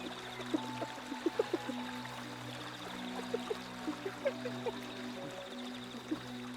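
Water flowing steadily through African grassland, a continuous soft wash with brief faint splashes and ripples scattered throughout, heard from a moderate distance.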